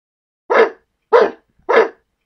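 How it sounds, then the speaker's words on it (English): A dog gives three loud, close barks, evenly spaced about half a second apart, with silence between them and no talking. "Who let the dog in, Cody?"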